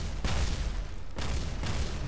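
Kerbal Space Program explosions boom out in two heavy, broadband bursts about a second apart, each with a rumbling tail.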